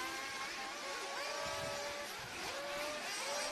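Small RC cars racing around a track at a Herts GP finals day, a busy overlapping buzz of whining electric motors with rising and falling tones, fairly faint and distant, without any talk.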